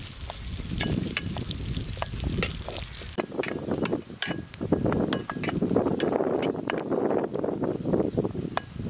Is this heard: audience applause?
no